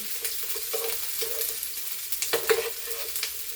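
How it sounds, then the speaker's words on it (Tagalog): Chicken fries in a pan with onion, giving a soft, continuous sizzle. Faint stirring clinks and scrapes break through now and then, and no voices are heard. "sisilipin po natin ang aking fried chicken"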